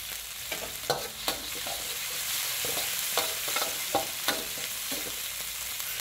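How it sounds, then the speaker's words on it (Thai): Oil sizzling in a wok as chili and garlic are stir-fried, with a steady hiss and scattered scraping clicks of a spatula. "ใส่น้ำมันไปเล็กน้อยแล้วก็ตามด้วยพริกกระเทียมลงไป"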